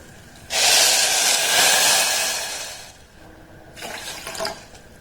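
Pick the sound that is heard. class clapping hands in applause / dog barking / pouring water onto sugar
pouring water onto sugar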